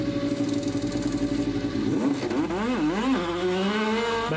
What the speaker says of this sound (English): Mansell blasts back into the race in 3rd place